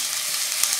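Thinly sliced Vidalia onion sizzles and crackles in hot oil in a pan, a loud, close, continuous frying hiss with a few small pops.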